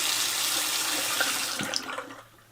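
Faucet water running steadily into a mobile home bathroom sink, a continuous broadband rush that fades out near the end, with a faint clunk midway.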